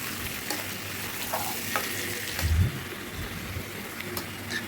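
Chickpea curry being sautéed in a pan, a steady soft sizzle with scraping stir strokes and a brief louder stir near the middle, no voices.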